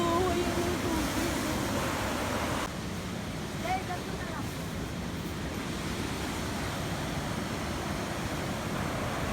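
Ocean surf washes steadily onto Diguisit Beach in Baler, Aurora at dawn, a broad continuous rush of waves mixed with wind buffeting the microphone, with a voice speaking briefly early on.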